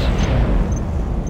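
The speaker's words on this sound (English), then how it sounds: "It will be a big explosion." A big demolition blast in the C&C Generals Shockwave mod, a dense low rumble that rolls on loudly for the whole moment with faint high glints above it and no voices.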